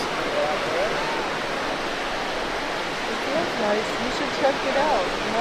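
Ocean surf rolls onto the shore at Long Beach, New York, a loud continuous wash of breaking waves with people chatting nearby over it.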